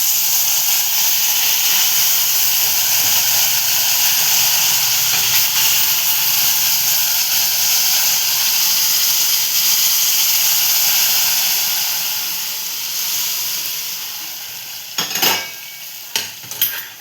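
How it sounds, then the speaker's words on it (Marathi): Boiled water poured into a hot pan while cooking lapshi gives a loud, steady steam hiss with a little sizzle. It holds evenly, then fades and softens, and a few sharp utensil clinks follow near the end. "आता आपण ते उकळून घेतलेलं पाणी ह्याच्यात टाकून घेऊ."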